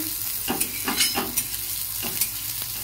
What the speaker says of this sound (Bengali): পেঁয়াজটা জাস্ট হালকা করে একটু ভেজে নেব।